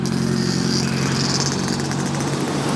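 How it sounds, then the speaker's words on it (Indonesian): A Rapi intercity bus heads along the eastern Sumatra highway near Pekanbaru, a loud steady diesel engine drone and road rumble heard close for the whole stretch without anyone talking. "Depan tuh teman-teman, bus Rapi lagi teman-teman."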